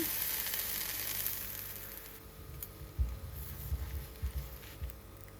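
Chitoi pitha batter sizzles faintly in a pan, a hissing wash that fades into soft scraping knocks and thumps.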